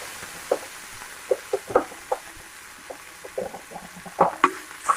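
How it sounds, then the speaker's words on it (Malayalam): Mustard seeds, ginger and garlic frying in hot oil, heard as scattered sharp pops and crackles over a faint steady sizzle, with a denser burst of pops near the end. "അത് നമ്മുടെ എണ്ണ ചൂടായിട്ടുണ്ട്. കടുക് ഇട്ട് കൊടുക്കുവാണ്. നമുക്ക് ഇഞ്ചിയും വെളുത്തുള്ളി ഇട്ട് കൊടുക്കാം."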